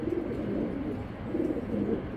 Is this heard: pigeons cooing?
yes